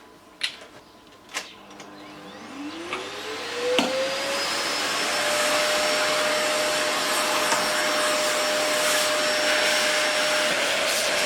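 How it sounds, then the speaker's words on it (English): Vacuum cleaner used to clean dust from a Crown I-Tech 5000HD amplifier, starting after a few clicks and spinning up with a rising whine into a loud, steady close roar. "I think it's time for the vacuum."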